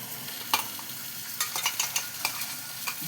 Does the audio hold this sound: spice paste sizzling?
yes